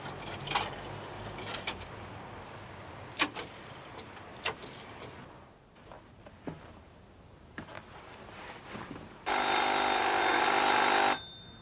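A telephone rings loudly near the end in a 1978 French television crime drama, following a quiet stretch of scattered knocks and ticks in a room.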